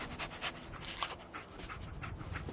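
The dog Dogmeat in Fallout 4 pants in quick, rhythmic breaths, close and fairly quiet, with no other sounds around it.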